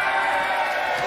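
Theater audience of tour groups at a Baldknobbers show cheering, whooping and clapping, a dense steady crowd roar that fills the short moment at full volume.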